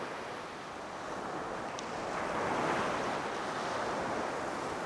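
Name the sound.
sea waves washing on a rocky village shore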